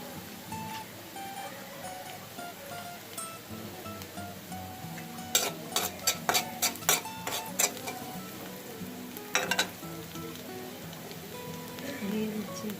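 Chopped onion and salt in a pan while cooking pui shak with shrimp: a low sizzle under a run of sharp metallic clinks and taps from utensils against the pan, fairly close and moderately quiet.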